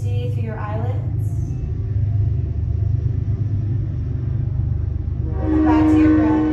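A train rolls past on a track right beside a home, a deep steady rumble with a low horn-like tone building toward the end, and someone speaks softly over it at the start and finish.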